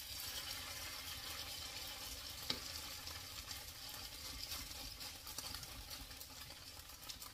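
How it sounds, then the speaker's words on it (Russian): Grated potato pancakes (draniki) fry in a hot pan with a soft, steady sizzle that stays faint and even throughout. "я сейчас драники нажарю"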